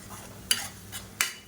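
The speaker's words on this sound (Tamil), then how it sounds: "இப்போ பாருங்கள், வெங்காயம் நல்லா வதங்கிட்டு இருக்குது" Onions are sautéed in oil and stirred, with three short, sharp spatula scrapes against the pan over a faint background sizzle, close and quiet.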